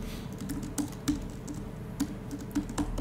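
Soft, irregular keystrokes tap on a computer keyboard, close but quiet, during a programming-languages lecture.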